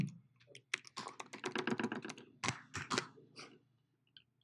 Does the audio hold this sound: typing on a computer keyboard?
yes